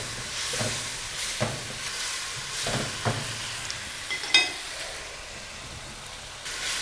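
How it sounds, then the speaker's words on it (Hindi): Spice masala with salt, cumin and crushed red chilli roasts in a pan for stuffed bhindi, giving a steady close sizzle and hiss punctuated by regular scraping stirs and a few clinks, without talk. "अब हम इसको मसाले के साथ भून लेंगे।"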